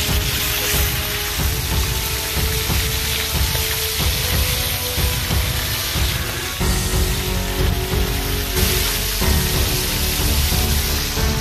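Hot oil sizzling steadily as fish fries in a restaurant kitchen on Lake Ohrid, a dense continuous crackle and hiss close by, with faint stirring or clinks and no talk.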